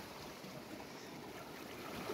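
A stream of snowmelt water flowing outdoors in Norway, a faint steady rushing wash with light wind and no talk.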